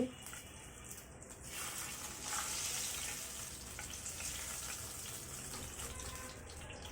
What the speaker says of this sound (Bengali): একইভাবে বাকি মাছগুলো আমি ফ্রাই করে ফিরে আসছি